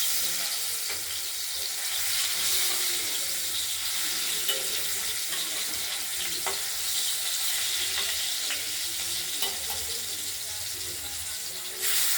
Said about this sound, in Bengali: এবার আমরা তেলটা গরম হয়ে গেছে মাছগুলোকে আমরা ভেজে নেবো